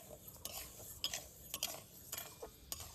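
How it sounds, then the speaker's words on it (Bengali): Dal being stirred with a utensil in a lightly heated karahi over a low flame, giving scattered light scrapes and clinks at an irregular rhythm, close by and fairly quiet. "কড়ার মধ্যে এই ডালটা দিয়ে দেবো। দিয়ে এইভাবে একটু নাড়াচাড়া করে নেব।"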